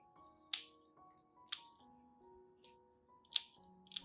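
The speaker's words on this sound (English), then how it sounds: "You should use clean or sterilized scissors for this step to ensure clean cuts and reduce the risk of infection." Scissors snip through damaged orchid tissue in four sharp, close cuts spaced about a second apart, each a crisp click over quiet background tones, with no talking.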